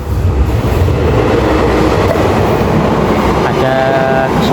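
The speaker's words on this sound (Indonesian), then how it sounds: "Ada suara kereta lewat sebentar." A train rolls past nearby, a steady loud rumble with rail clatter that fills the whole clip, with a brief higher tone near the end.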